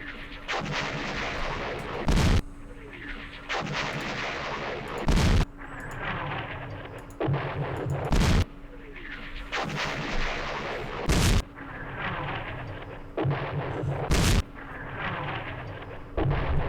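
Repeated heavy artillery blasts from the World War II strategy game Campaign Series West Front, a loud boom landing every two to three seconds over a steady rumbling battlefield bed, with no voices.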